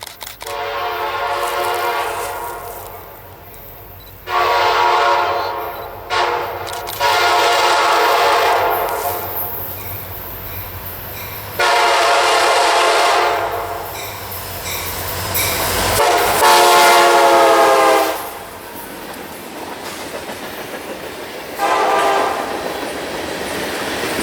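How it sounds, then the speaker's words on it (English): CSX southbound freight Q613, running from Waycross to Mulberry with a mixed string of phosphate hoppers, passes loud and close in central Florida, its horn sounding in several long blasts over the rumble and clatter of the cars. "what would turn out to be southbound Q613 Waycross to Mulberry Freight"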